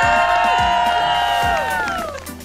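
A crowd cheers for athletes, probably at a school sports event, with a loud, sustained wash of shouting and whooping voices that fades slightly toward the end.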